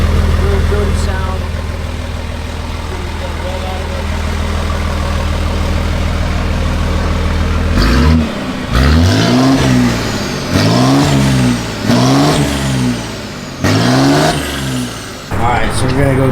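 A 700HP Cummins diesel truck engine with a choppy, rough idle loud and close, then a series of sharp revs that rise and fall about every two seconds.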